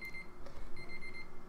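A kitchen timer goes off with a high, thin electronic beeping, two bursts separated by a brief gap, close and clear over low room noise, with no talking.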